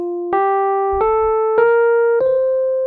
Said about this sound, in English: So C Dorian sounds like this.